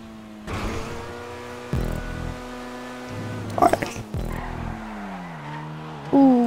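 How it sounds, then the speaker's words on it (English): Car engine revving with screeching tires as a car drifts in GTA 5, sustained whining tones rising and falling across several slides, with a voice talking over parts of it. "Sick drifts."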